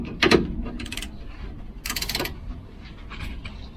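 A ratchet works on a bolt whose thread spins in place during a coil spring swap on a Volvo 240, a few brief uneven clicking bursts and a metallic clack up close, with no talking.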